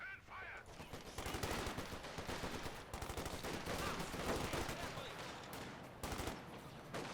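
Rapid bursts of rifle and machine-gun fire crackle through a skirmish in the strategy game Company of Heroes 2, dense overlapping shots continuing throughout with brief lulls.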